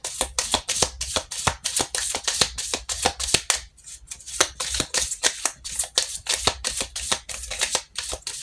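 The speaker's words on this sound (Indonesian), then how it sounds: "Lalu kita shuffle kartu lain untuk konfirmasi." Tarot cards being shuffled by hand, a dense run of crisp riffling flutters and slaps repeating steadily close to the mic with a brief pause midway, no voices.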